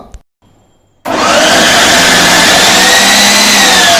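A mixer grinder grinding grated pumpkin starts after a brief quiet moment and runs loud and steady, a dense whirring grind that continues without a break.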